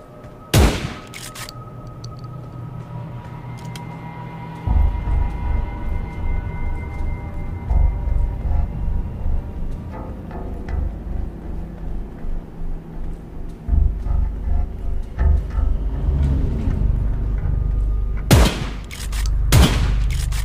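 Bursts of gunfire in the CODE LIVE survival video game, sharp loud shots near the start and near the end, with a rumbling background of sustained low booms between them and no talking.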